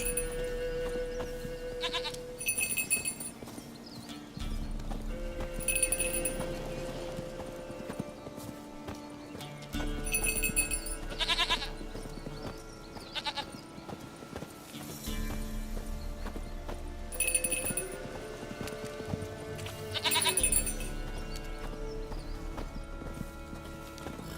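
Horse hooves clip-clop in The Witcher 3, a steady rhythmic trot carrying on throughout with recurring chime-like game sounds and occasional animal calls over it.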